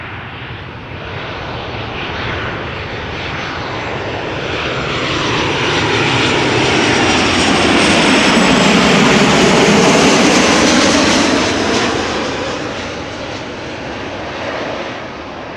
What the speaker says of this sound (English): I think that is a KLM 777-300 arriving from Vancouver.